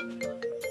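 A short, faint electronic phone ringtone plays a quick run of tonal beeps.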